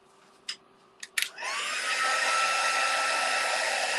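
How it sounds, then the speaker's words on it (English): After a few sharp clicks, a heat embossing tool switches on and blows hot air with a loud, steady high-pitched whirring rush that holds to the end. "I'm just going to put the lid on that before I start heat embossing."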